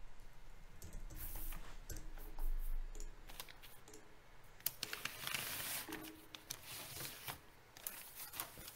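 Papery rustling and crisp scraping clicks as papers are shuffled at a Catan tournament, with several sharp taps mixed in, fairly close and steady throughout, no voices.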